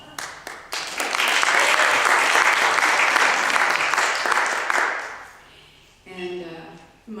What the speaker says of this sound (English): And my notes call for a round of applause